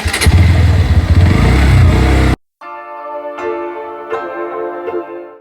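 On a foggy morning, a newly bought motorcycle on a test ride roars loudly up close with rough, throbbing engine noise, cuts out abruptly, then idles and blips its throttle in short revs.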